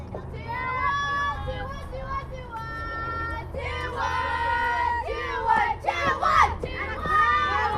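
Softball players in a dugout at a Triple Crown World Series championship game chant and cheer together in loud, rhythmic group shouts with high girls' voices. The calls build and overlap toward the end.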